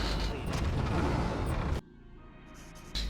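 A door-opening mechanism in a LEGO Ninjago video game grinds and creaks loudly for nearly two seconds, then cuts off abruptly, leaving quieter game ambience before another burst begins.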